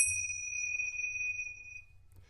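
A single bell strikes once and rings out clearly with a long, pure sustained tone that slowly fades away, close and alone with no talking.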